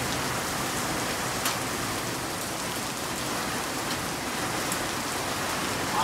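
Heavy rain pours steadily in a dense, even hiss of drops hitting surfaces, loud and constant with no voices.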